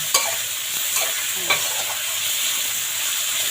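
Pork pieces stir-fried in a pan for sweet and sour pork, a loud steady sizzle broken by a few sharp spatula knocks and scrapes early on.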